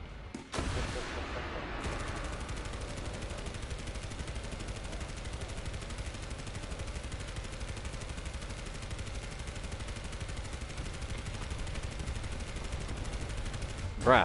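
Sustained, rapid machine gun fire in the War Thunder video game rattles on continuously for over ten seconds, loud and dense, with no speech over it.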